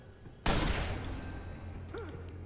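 Gunfire and explosions in the video game Watch Dogs, a sudden sharp blast followed by a decaying rumble, with faint game sound effects and tones lingering in the background.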